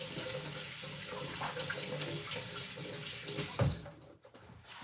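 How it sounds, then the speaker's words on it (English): Hands washed under a running kitchen tap, a steady close hiss of flowing water with light splashing, a brief louder splash near the end before the flow drops off. "let me wash my hands"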